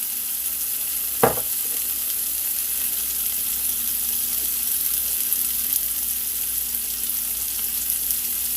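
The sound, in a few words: food sizzling as it fries in pan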